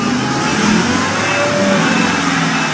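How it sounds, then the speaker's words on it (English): A Harley-Davidson Ford F350 6.4 L Power Stroke diesel truck with a performance chip revs hard while climbing a ramp, a loud, sustained engine roar with a steady low rumble close by. "we're going up this ramp with a Harley-Davidson Ford F350 Power Stroke with Chip inside"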